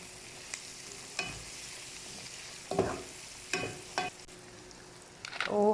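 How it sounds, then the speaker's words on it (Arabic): Onions with turmeric stirred in a pan, a soft steady sizzle broken by several scraping strokes of the spoon against the pan, close and fairly quiet, no voices. "البصل بنحط له شوية كركم، وبنحرك عشان يتوزع"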